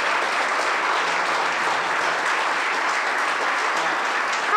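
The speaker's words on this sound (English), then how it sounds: "could you please give your candidates a round of applause?" Steady applause from an audience at a candidates forum held by the El Segundo Woman's Club, a dense, even clapping that fills the room for the whole stretch without letting up.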